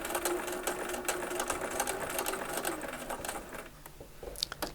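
A sewing machine stitches a quilt piece for an eight-point star at normal stitch length, running in a fast, steady whir up close before stopping near the end with a few faint clicks.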